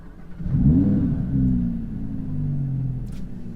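An Audi R8 RWD Performance Edition engine revs up with a deep rumbling roar, then settles into a steady throaty idle, close and loud.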